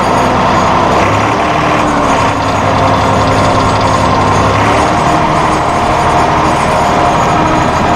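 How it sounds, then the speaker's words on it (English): A Massey Ferguson RK702 rotary rake spinning on a tractor's PTO drive gives off a loud, steady mechanical clatter and whir, continuous throughout with no voices. "We're going to kick the PTO in gear here, and you can see it rotating."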